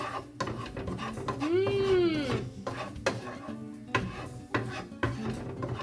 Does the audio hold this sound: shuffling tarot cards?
no